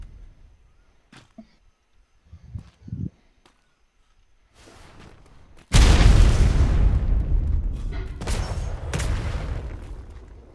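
Mortar rounds land on a base in the video game Atlas, a heavy blast rolling into a long, loud rumbling barrage of booms after a few quieter thumps and faint sounds.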